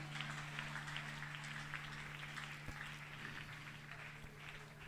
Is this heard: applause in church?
yes